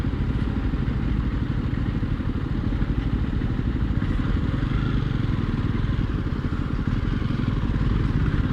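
Jawa Perak motorcycle engine running steadily nearby, a dense throbbing mechanical clatter with a low pulsing beat that holds at an even level throughout, without speech.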